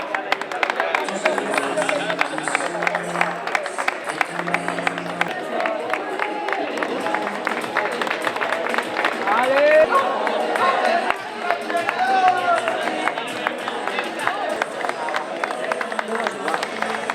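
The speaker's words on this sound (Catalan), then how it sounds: "fort aplaudiment per a elles" Spectators clap and cheer runners at a 10 km urban road race in Manresa, a dense sustained burst of applause with crowd noise all the way through, while an announcer speaks over it on a loudspeaker.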